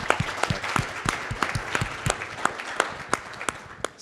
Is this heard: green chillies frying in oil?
no